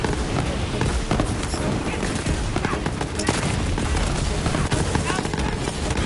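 Enemy gunfire in Borderlands 3 crackles almost nonstop, a dense rattle of rapid shots and bursts filling the whole stretch at steady loudness.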